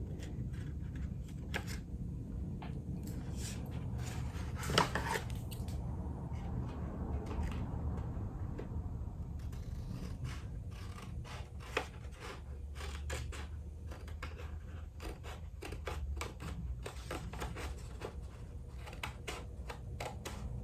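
Scissors snip a little off the top of a piece, producing many quick, faint, close clicks and cuts in uneven bursts over a quiet background.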